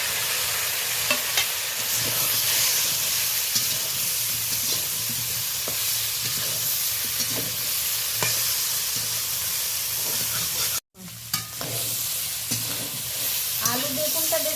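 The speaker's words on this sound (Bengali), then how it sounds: "আলু বেগুনটা বেশ ভালো করে ভাজার পরে ভেজে রাখা চিংড়ি মাছটা দিয়ে আরও 2-3 বার ভালো করে একটু নাড়াচাড়া করে নিলাম।" Potato and eggplant sizzle loudly in a pan with added fried prawns while being stirred, with scraping strokes over a constant frying hiss and a brief dropout near the end.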